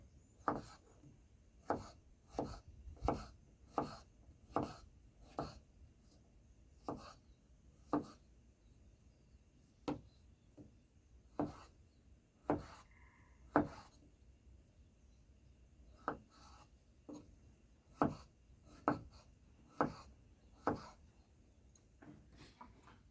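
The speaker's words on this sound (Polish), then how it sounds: "i kroję w kostkę." A Morpho knife dicing food on a cutting board, sharp distinct chops in an irregular but steady rhythm, close and clear with quiet gaps between strokes.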